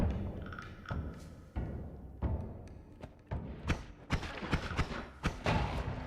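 A string of dull thuds and taps from objects being kicked around in the pixel-physics game Noita, irregularly spaced and growing busier toward the end, moderately loud with no talk.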